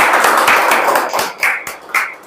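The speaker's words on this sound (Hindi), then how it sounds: "इनके लिए कुछ ताली हो जाए।" Claps from a small group honouring a Bihar Board class 10 exam topper, uneven and fairly close, rising into a few sharper bursts toward the end with no talking over them.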